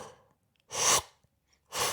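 A person imitates a scuba diving regulator with their voice, making two loud, close, hissing breaths separated by a short silence.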